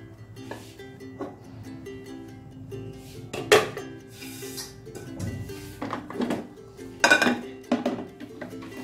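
Cooked, tender mutton is moved into a karahi pan, with metal clinks and scrapes of a utensil against the pan coming in bursts, several louder knocks standing out over a low background hum.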